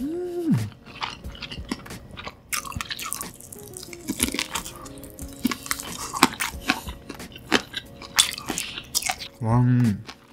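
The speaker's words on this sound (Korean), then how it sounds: "첫입은 이 허니콤보부터 먹어볼게요" Honey combo fried chicken being eaten up close, with crisp crunchy bites and wet chewing and squishing in a steady run, broken by short hummed or voiced sounds from the eater.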